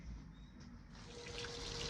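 Water runs to an outboard motor after reed valve replacement: a steady rushing, trickling flow, fairly faint and continuous, growing a bit fuller toward the end.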